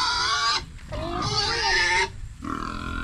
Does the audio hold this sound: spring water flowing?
no